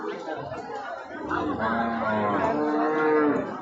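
A very large cow at Maitra cattle bazaar gives a long, drawn-out moo that swells and holds, while people chatter and talk around it at the busy market.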